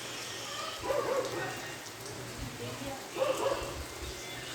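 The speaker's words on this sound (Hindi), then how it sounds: "बारिश हो रही है और सारे पाप धुल रहे हैं हमारे यहाँ पे।" Steady morning rain falls on a sacred rural site, a soft continuous hiss with a few brief louder patches, moderately near and with no talk.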